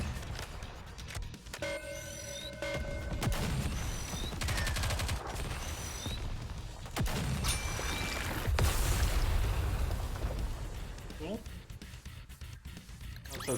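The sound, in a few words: gunfire in Nikke: Goddess of Victory video game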